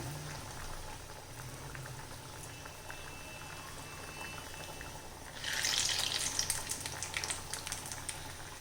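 Jackfruit seed vadas drop into hot oil for deep frying: a low simmering bubble gives way to a sudden loud crackling fry as four or five go in, staying busy and near with no voices.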